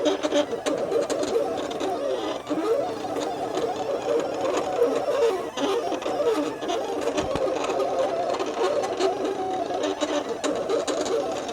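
A Silhouette Cameo 4 cutting machine whirs and buzzes continuously nearby while cutting a sticker sheet, with irregular mechanical ticks and clicks, steady throughout.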